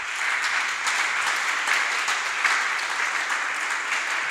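A church congregation applauding and cheering for the King of Kings, dense continuous clapping that stays steady and fairly loud from start to finish.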